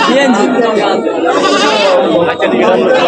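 Goats bleat amid a loud, crowded wholesale goat market din before Qurbani, with many people talking and bargaining all around.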